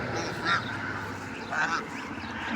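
Goose goslings graze on green grass and give two close, nasal honks about a second apart over a soft background murmur.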